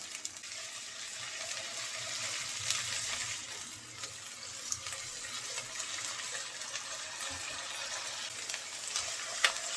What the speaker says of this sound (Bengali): মশলাটা নেড়ে চেড়ে ভালো করে ভেজে নিয়েছি